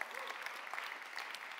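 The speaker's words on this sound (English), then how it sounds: "Big round of applause for those people for admitting this." Audience applause during a live talk on creating bestselling online courses, a fairly faint, steady patter of many hands clapping that continues throughout without any talk.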